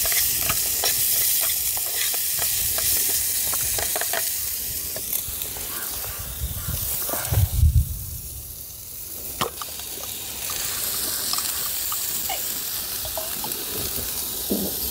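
Chicken and sauce frying and being stirred in a pan at an outdoor picnic spot near Gopalpur Beach, Balasore: a loud, steady sizzle runs throughout, with scraping stirs and a brief louder bubbling burst midway.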